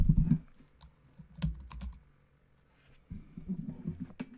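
Quick bursts of clicking keystrokes on a computer keyboard, close and fairly quiet, separated by a short pause.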